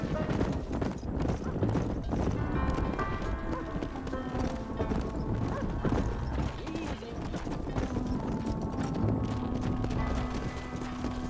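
Horse hooves clip-clop steadily in the Red Dead Redemption video game, a busy rhythmic clatter under a layer of game music and ambience, with a character's voice speaking over part of it.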